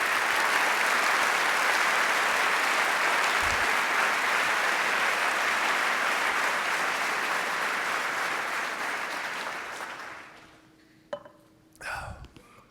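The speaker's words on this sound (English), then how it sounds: "let's give them a round of applause." Audience at a city's State of the City address applauds the city council, a loud sustained wash of clapping that fades out after about ten seconds, leaving quiet room sounds and a brief bump.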